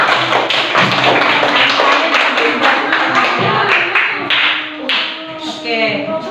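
A classroom of students clapping for the group presentations, a dense patter of hand claps that fades a little toward the end, with voices mixed in.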